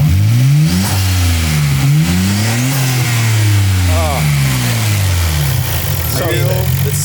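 An R33 Nissan Skyline GTR with its RB26 engine and factory individual throttle bodies revs hard and close, its pitch rising and falling in repeated loud blips, while people talk over it.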